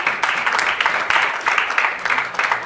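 A church congregation applauds in steady, continuous clapping that swells in repeated waves, dense and fairly close, with no clear speech over it.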